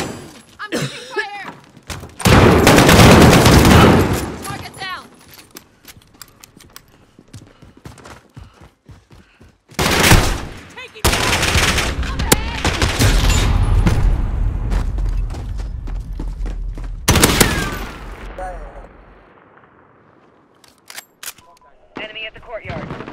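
Bursts of gunfire in a Call of Duty Modern Warfare multiplayer match against bots, with heavy loud volleys between quieter stretches of sporadic shots and scattered game sounds.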